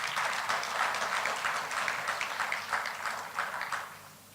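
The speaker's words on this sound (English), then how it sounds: "You owe yourself a big round of applause" Applause from a Muslim community gala dinner and banquet audience, a steady wash of many hands clapping that holds for about four seconds and then begins to fade, fairly quiet and heard alone.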